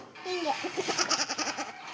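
A goat bleats close by in a wavering, quavering cry lasting over a second, preceded by a brief higher call.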